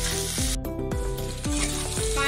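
Mixed vegetables with green chilli, turmeric and chilli powder frying on a medium flame, a loud continuous sizzle with repeated stirring scrapes and a few tonal squeaks.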